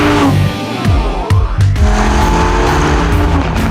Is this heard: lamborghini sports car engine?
yes